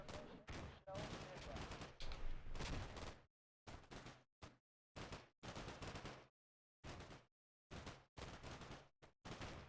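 Rapid bursts of gunfire and grenade blasts from the Combat Mission: Black Sea war game, loud clustered volleys that start dense and continuous and then break into separate short bursts with brief silences between them.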